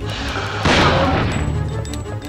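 A shotgun fires in the video game Dino Crisis, giving one heavy, booming blast that swells and fades over a second against steady game background noise.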